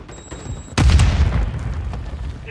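A Semtex grenade explodes in Call of Duty Modern Warfare 3 multiplayer, a sudden loud close boom after a quiet stretch, followed by a rumbling decay and some scattered gunfire.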